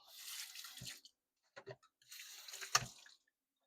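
Water runs from a kitchen tap as a utensil is rinsed while making black bean waffles, in two splashing bursts with a short clattering pause between, close and fairly quiet.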